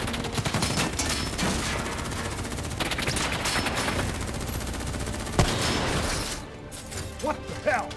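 Sustained bursts of gunfire from rapid-fire weapons in the Black Ops III video game, dense and continuous with sharp cracks throughout, mixed with shouting voices and a louder impact near the end.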